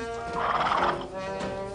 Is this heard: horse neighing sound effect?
yes